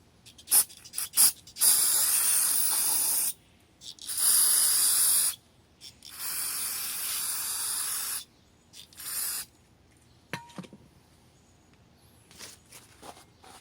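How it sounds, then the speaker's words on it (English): Carburetor cleaner hisses from an aerosol can onto a CV joint from a 2002 Nissan Sentra 1.8L, in several loud close bursts of a few seconds each, separated by quiet gaps and followed by faint clicks. "Clean this with some carburetor cleaner too"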